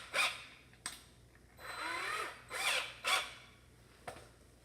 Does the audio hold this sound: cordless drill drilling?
yes